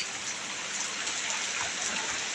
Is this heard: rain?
yes